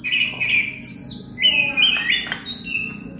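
A caged orange-headed thrush (anis kembang) singing nearby, loud varied whistled phrases and chirps following one another in quick succession with no talking.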